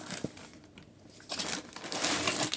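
Crinkling and rustling of cardboard and plastic packaging as a box of figures is handled and opened, close and fairly quiet, with irregular scratchy bursts.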